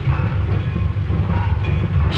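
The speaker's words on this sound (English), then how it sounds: "See that train down there?" A steady, loud rumble of a train in a railroad yard fills the whole stretch with continuous low mechanical noise.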